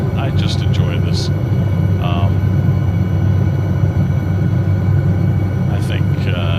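An SA 315B Lama helicopter flying in a flight simulator gives a steady, close, droning rotor-and-engine rumble throughout, with someone talking over it.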